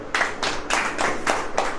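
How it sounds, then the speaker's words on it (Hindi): An audience at a Christian sermon gathering claps hands together in about five distinct bursts of rhythmic, unison clapping, fairly close and loud, with no voices. "ताली बजाइए।"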